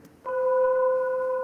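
Glass fibers in the LIGO gravitational-wave detector, vibrating from thermal energy, produce a steady tonal hum with several sharp sustained lines that start abruptly and hold evenly, fairly loud and alone.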